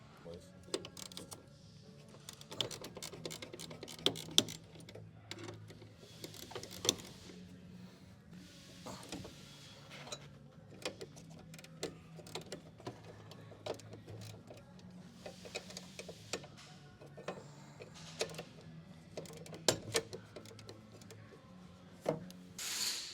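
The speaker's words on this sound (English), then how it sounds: "So what we use is a ratchet with a swivel head on it and a shallow socket to break them loose." Faint, irregular clicks and ratcheting bursts from a swivel-head ratchet with a shallow socket breaking loose door hinge bolts on an old Ford truck, scattered over a quiet background with a few low sounds between.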